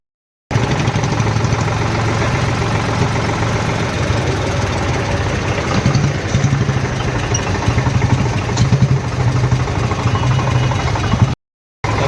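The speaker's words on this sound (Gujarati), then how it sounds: "રોડે ટ્રેક્ટર આપણું ચાલ્યું જાય છે" A tractor engine chugs steadily while the tractor drives along a village road, its loud, close, continuous diesel rumble carrying a rapid knocking pulse for about eleven seconds, with no voices over it.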